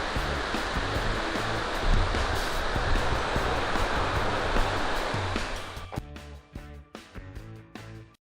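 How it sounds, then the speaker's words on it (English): Glacier runoff in the Carbon River rushes in a steady broadband roar for several seconds, then drops away into quieter, scattered splashes and knocks. "Carbon River is running white because of the glacier runoff"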